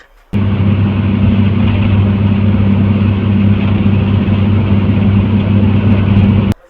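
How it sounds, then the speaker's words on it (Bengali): A Shyamoli Paribahan bus engine hums steadily from inside the cabin while riding, a loud, even low drone with no body rattles, sustained throughout before cutting off at the end. "আপনি আমার শ্যামল ছায়াতে চলা এই বাসটির সাউন্ড শুনে দেখুন এটাতেও কিন্তু ইঞ্জিন সাউন্ড ছাড়া বডি থেকে কোনো শব্দ আসছে না"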